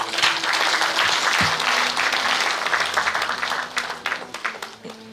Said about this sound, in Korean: 자신의 이야기를 들려주신 네 분께 다시 한번 뜨거운 박수 부탁드립니다